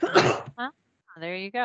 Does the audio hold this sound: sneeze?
yes